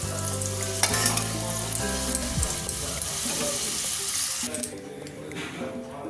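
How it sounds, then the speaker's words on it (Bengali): Fried potatoes being finished and lifted out of a pan in a home kitchen, with continuous sizzling, clattering utensil scrapes and faint running water in the background. "আলু ভাজা হয়ে গেল, তুলে নিলাম।"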